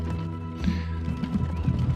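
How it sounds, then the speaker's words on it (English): Horse-drawn carriage in the transport simulation game Transport Fever, its hooves clip-clopping in a steady rhythm over a low ambient game drone, moderately loud. "You get to watch the horse carriage go."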